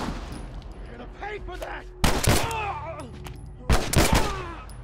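Gunfire from The Last of Us erupts in two loud, sharp bursts of several rapid shots each, with a crackling echo trailing off. A shouted voice comes in between the bursts, and game ambience hums underneath throughout.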